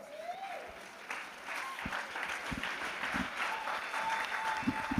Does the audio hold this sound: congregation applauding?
yes